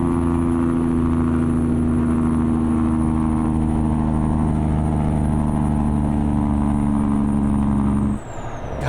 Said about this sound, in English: I love the deep throaty rumble that these trucks have